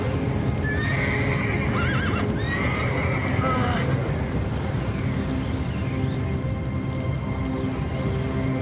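Horses neigh and whinny over a steady rumble of galloping hooves, loud and continuous, with some voice-like sounds mixed in.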